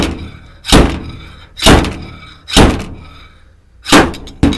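Repeated taps on a dent around a red-glue PDR glue tab on car body metal: four loud, sharp, close knocks spaced about a second apart, each with a brief ringing decay, no talk.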